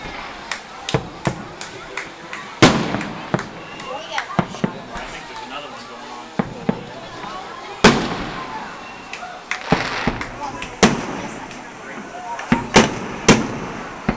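Fourth of July fireworks burst over Wisconsin Dells near the Kalahari and Wilderness resorts: sharp bangs and crackling pops arrive in irregular bursts at a moderate distance, each loud report trailing a brief echo.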